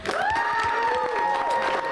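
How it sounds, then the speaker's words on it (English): An audience applauds Dan Bavaro of Bavaro's in Winter Springs: dense, continuous clapping with a rising, whooping cheer riding on top, loud and steady for about two seconds. "Round of applause for Dan Bavaro"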